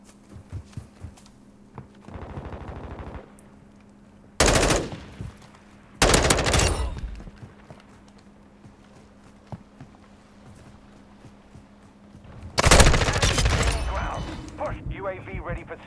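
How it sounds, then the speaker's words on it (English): Automatic rifle gunfire in the Modern Warfare 2 video game, several sharp loud bursts of rapid shots separated by quieter stretches, with someone talking between and over them. "Why are you shooting at me?"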